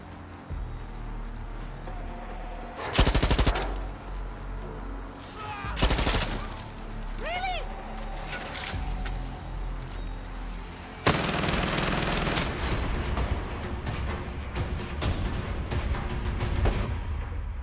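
Gunfire in the video game Far Cry 6, with several loud bursts of rapid automatic fire separated by quieter stretches of game ambience and whistling effects, ending in a sustained volley.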